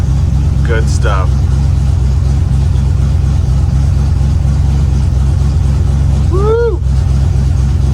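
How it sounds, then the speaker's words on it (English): Car engine running with a mostly open exhaust, a loud, close, continuous low rumble throughout, with a couple of brief voice exclamations over it. "Listen to that open exhaust."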